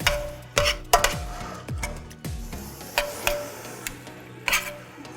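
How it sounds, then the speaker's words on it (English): Food is stirred in a bowl to coat it with salt, giving a series of sharp, close scraping clicks and knocks at an irregular pace with quieter gaps between them. "you're gonna keep stirring to coat everything on there"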